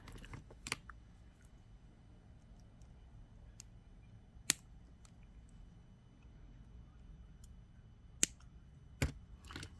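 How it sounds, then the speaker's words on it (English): Fine jewelry wrapping wire around a carnelian cabochon is snipped with small cutters, giving a few sharp isolated clicks spread over a quiet background. "Now I'm going to want to cut these wires."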